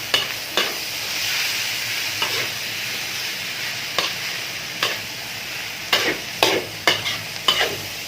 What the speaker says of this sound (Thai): เนื้อหมูป่าไปเลยผัดให้หอมก่อนครับ